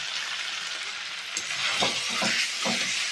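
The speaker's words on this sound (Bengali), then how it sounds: "এবার আমি গরম জলটা দিয়ে দেবো, দিয়ে আমি এবার ঢেকে দেবো।" Hot water poured into frying chicken curry in a pan, a steady oily sizzle swelling into bursts of bubbling and spitting as the water hits the hot oil, close and loud with no voices.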